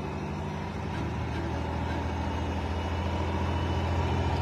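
A semitrailer truck engine with an Eaton Fuller gearbox revs up to 1800 rpm, a deep, steady, close diesel drone that swells slightly louder and stays even, with no talking over it.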